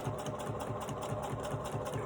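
A sewing machine stitches a fabric tech organizer pouch, its needle running in a fast, steady, evenly pulsing rhythm, close and alone with no voices.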